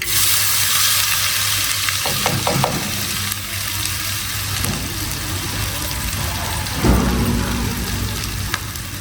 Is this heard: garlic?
yes